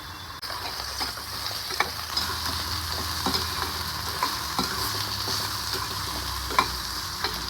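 Coriander and mint leaves roasting in a pan give a continuous dry sizzle, with repeated scraping and stirring strokes from a spatula, close and steady with no voices.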